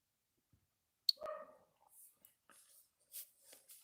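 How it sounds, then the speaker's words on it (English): A dog barks and whimpers in the background, excited and agitated, in short yelping bursts from somewhere off in the house, with brief higher-pitched noises between them. "Oh, you can hear my dog in the background."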